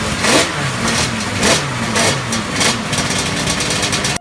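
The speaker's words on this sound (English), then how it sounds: "its revolutionary V4 two-stroke engine played a big role in that success" A V4 two-stroke motorcycle engine revs loudly and close, with repeated rising bursts of throttle over a steady buzzing mechanical drone and no voices.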